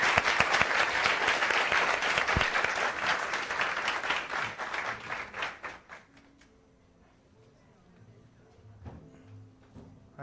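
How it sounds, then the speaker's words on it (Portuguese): Audience applause at a café philosophy talk on ecological economics, loud dense clapping for about six seconds that then fades out into a quiet room with faint low sounds. "gostaríamos de agradecê-lo com um aplauso particularmente para ele"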